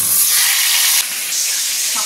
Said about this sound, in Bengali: মাথা দুটো ভাজলেই হয়ে যাবে।